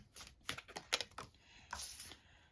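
Tarot cards being shuffled by hand, a run of crisp papery riffles and snaps in quick uneven bursts, close and fairly quiet, ending in a longer rustling flutter.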